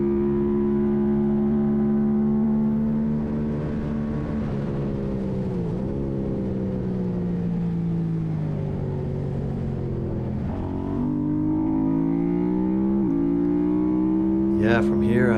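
Racing motorcycles scream down the Road Atlanta back straight during a WERA Formula 2 race, their high-revving engines rising and falling in pitch as they pass close and loud, with a voice talking over them.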